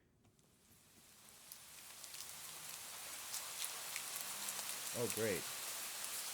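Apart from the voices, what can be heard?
rain falling in the video game Do Not Take This Cat Home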